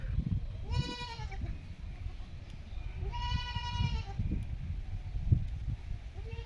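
A goat kid bleats twice, a few seconds apart, at a farm in Chilahati Union, Panchagarh, where it nurses from a dog. Each bleat is a clear, wavering cry over low, steady background noise.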